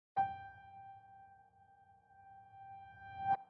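A single piano note rings out and fades, then its reversed copy swells back up to an abrupt cutoff, quiet and alone with no other sounds.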